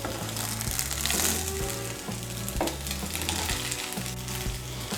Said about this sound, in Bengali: চিনি আর গোলমরিচের গুঁড়োটাকে মিশিয়ে নেব।